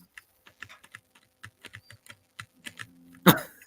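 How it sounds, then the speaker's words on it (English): A plastic bottle being clicked in a series of small, light, irregular clicks close to the mic, ending with one louder crunch, with no talking. "No, I'm clicking my bottle."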